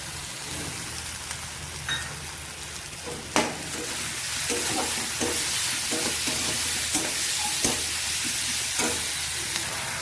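Green chili and garlic paste frying in a pan sets off a steady, close sizzle that swells after a sharp clatter, with scattered stirring scrapes and clicks throughout and no talking.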